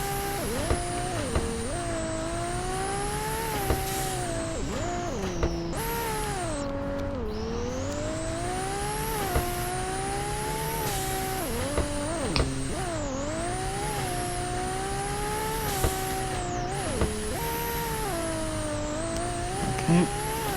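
Twin-turbo Ferrari 599 with about 1,300 wheel horsepower, drifting through a city, its engine roaring loudly and continuously with repeated rising and falling revs, alone with no talk.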